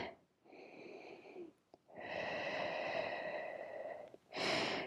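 Slow, audible breaths during a Pilates balance stretch: a short inhale, then a long, rasping exhale, and another quick breath at the end, close and fairly soft with no talking.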